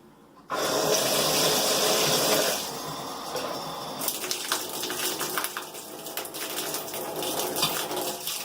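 Water gushes through a shower pipe being flushed before a new shower head is fitted. A loud, bright rush starts abruptly and runs about two seconds, then gives way to a softer, uneven spatter and trickle.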